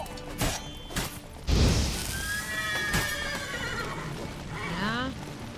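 Horses neigh loudly with rising whinnies in The Witcher 3, over clip-clop hooves and a crash or two, while someone talks at the same time.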